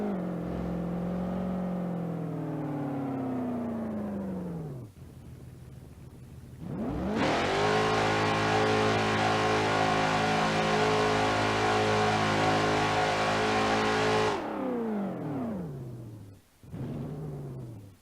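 A car engine in BeamNG.drive, a drag-racing road trip with traction control switched off, revs loudly with rising and falling pitch, idles briefly, then launches hard into a sustained full-throttle roar before backing off, all close and without talk.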